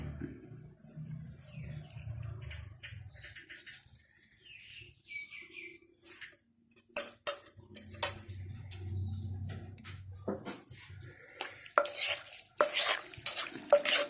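A spoon clinks and stirs through a fish soup mixture in a pot, with irregular taps and scraping strokes that grow busier toward the end, close and moderately loud, with no voices.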